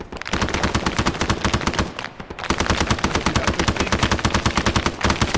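Sustained machine gun fire in the Arma 3 video game, Vietnam War setting: loud, rapid continuous bursts of shots with a brief pause around two seconds before firing resumes.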